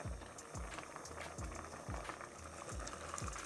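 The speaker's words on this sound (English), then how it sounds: "When your dal is bubbling away nicely" Brown lentil dal bubbling in a pot on the stove, thick repeated low plops and pops at a steady rhythm over a soft sizzling hiss, close and fairly loud with no talking.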